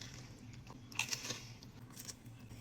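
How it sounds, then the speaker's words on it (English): Crunchy bites and chewing of food, a few crisp crackles clustered near the middle against a low steady background hum, fairly quiet and close. "The crunch."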